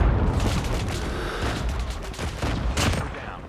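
Rapid bursts of gunfire from the mobile shooter game Call of Duty Mobile, a dense loud volley of shots with booming impacts, continuous throughout with no talking.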